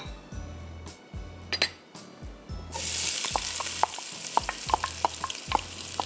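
Chopped onions, about one and a half cups, hit a hot pot and start sizzling loudly after a few metal clinks, while a spoon stirs and taps against the pot.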